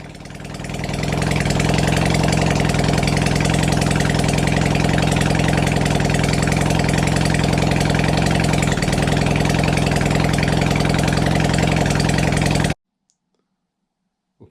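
A Kawasaki Zephyr 750 motorcycle engine runs steadily close by for about twelve seconds, a loud, even mechanical drone with a ticking, clicking texture, then cuts off abruptly into silence.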